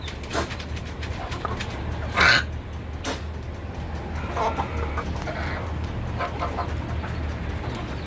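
Australorp hens and a rooster in a cage unit on a modern farm, giving soft intermittent clucks and one louder squawk over a low steady hum, with faint background noise and voices.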